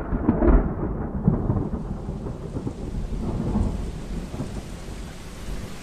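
Thunderstorm with steady heavy rain, a deep rumble of thunder swelling early then rolling on beneath a constant dense hiss of rainfall, close and full throughout.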